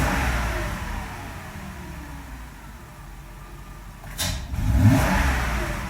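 A Mercedes 500E W124 engine that is still warming up runs loudly, dips into a duller, bogging stretch, then surges again when floored, with a sharp burst of revving near the end.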